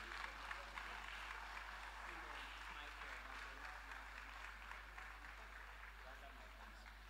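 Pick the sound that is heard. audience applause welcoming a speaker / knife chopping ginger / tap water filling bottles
audience applause welcoming a speaker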